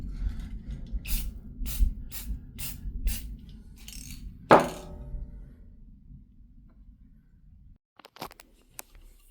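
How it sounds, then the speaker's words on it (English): Aerosol spray paint applied in black to parts in the engine bay of a 1989 Chevrolet Cavalier Z24, heard as a rapid series of short hissing bursts followed by a sharp clunk and quieter handling noises. "I'm just going to be painting over all this kind of dull area with black paint"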